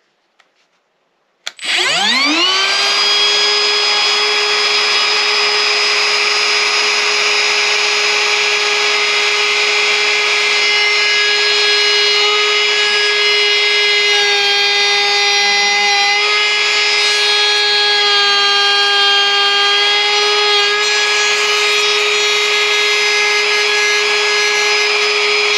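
A Milwaukee M18 FUEL 1/2-inch cordless router runs at high speed cutting a mortise in wood, a loud steady high-pitched whine that starts abruptly after a brief click and holds constant throughout, with no talking.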